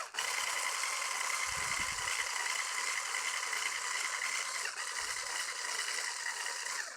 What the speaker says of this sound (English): Then you're going to mix this together to make it creamy.